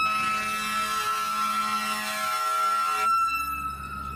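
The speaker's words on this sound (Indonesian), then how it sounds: "yang ini pemadam tangga" A toy ladder fire truck's electronic siren, a steady loud whining tone that holds for a few seconds, then shifts to a different pitch pattern, with no voices.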